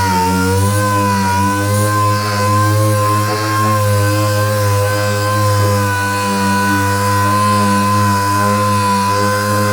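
An air-powered sander with adjustable pressure runs continuously on a car's clearcoat, giving a loud, steady, close whine with a droning buzz and slight wavering as it is moved across the panel.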